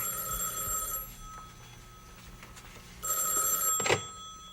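A telephone rings on a 1970s soap opera set, an old-fashioned bell trilling for about a second, a pause, then ringing again with a brief clunk at the end.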